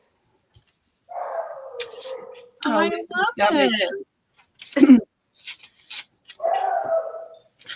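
A sad little puppy lets out whiny, drawn-out whimpers in two short bursts, near and fairly soft, while people talk in between.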